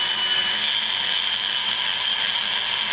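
A power grinder removing metal from an LS engine exhaust port, a loud, continuous high-pitched whir held steadily throughout without pause or voices.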